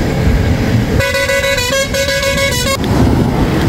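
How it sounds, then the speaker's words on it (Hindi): Truck horns blare on a Rajasthan highway near a refinery, with one long, loud, tonal honk of about two seconds that shifts in pitch, rising over the steady road rumble before cutting off. "ट्रक वाले भैया हॉर्न दे रहे थे ज़्यादा"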